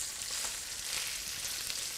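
A chicken leg roulade sears in smoking-hot oil in a pan, giving a steady, fairly quiet crackling sizzle with fine popping throughout, no talking.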